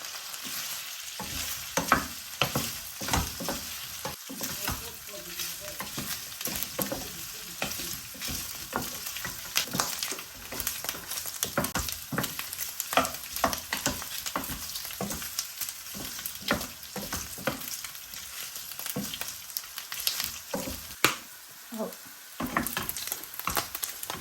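Pork for kinamatisan fries and browns in a pan, a bright crackling sizzle broken by frequent scraping stirs of the spatula, while someone talks intermittently over it.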